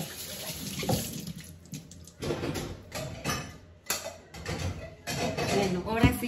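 Tap water runs into a sink while mangoes are washed for mango agua fresca, a steady splashing flow that swells and dips with handling and continues under a voice speaking throughout.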